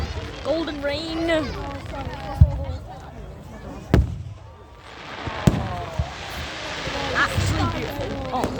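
Golden rain fireworks on bonfire night crackle and fizz with several sharp pops and bangs spaced a few seconds apart, while excited voices talk over the show.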